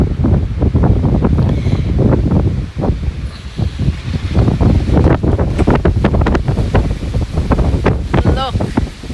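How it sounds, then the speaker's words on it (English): Very strong gusting wind at a seaside cottage with waves breaking nearby, roaring loud and continuous against the microphone, with rustling and buffeting throughout. "It's terrible wind today. Absolutely crazy."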